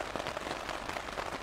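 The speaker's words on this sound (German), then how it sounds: "jetzt regnet es in Strömen" Heavy rain drums on a tent, a steady dense patter of many drops at close range, with no voices.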